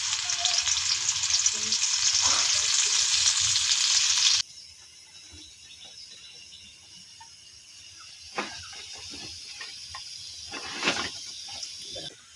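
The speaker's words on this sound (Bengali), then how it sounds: "দেখুন বন্ধুরা চিংড়ি মাছ কড়াতে দিয়েছি" Shrimp sizzles loudly in hot oil in a wok, a dense steady hiss for the first few seconds before dropping to a quieter crackle with occasional sharper spits and stirring clatter.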